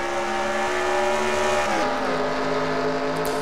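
ARCA race cars roar around the Milwaukee Mile oval in a racing video game, a loud continuous engine drone with shifting pitch as cars pass.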